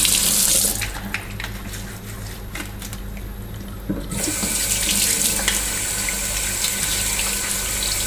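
Water running steadily into the tank of an iRobot Scooba 450 floor-cleaning robot, along with cleaning fluid, a close and constant pouring rush that briefly softens before flowing on strongly again.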